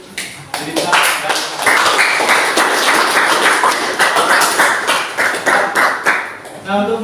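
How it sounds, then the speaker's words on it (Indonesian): A classroom of students applauds after a classmate's science presentation: dense, loud clapping runs for several seconds, mixed with voices, and thins into a few scattered claps at the end. "Beri tepuk tangan untuk cerita."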